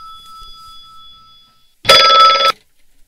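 A telephone bell rings once in a quiet room, a loud, bright, buzzing burst lasting under a second that stops abruptly, with a faint tonal hum before it.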